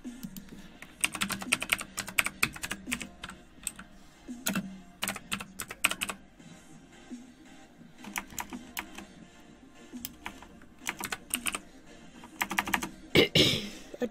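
Someone types on a computer keyboard at a PC, bursts of quick, crisp key clicks close to the mic, separated by short pauses and ending in a louder flurry of keystrokes.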